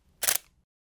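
A single crisp camera shutter release at 1/4000th of a second, a sharp close mechanical snap with a brief whirring tail, alone in quiet.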